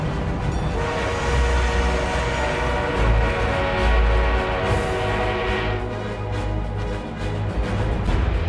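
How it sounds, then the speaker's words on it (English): An armored train rolls in during a Battlefield 1 match, a heavy low rumble and mechanical churn that swells and fades over a dense mix of battle noise. "We are being reinforced with an armored train."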